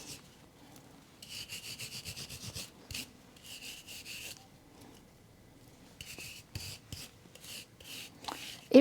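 Quick bursts of scrubbing against a cup, brisk back-and-forth rubbing strokes in several bouts separated by short pauses, close and fairly quiet, with clinks at the end.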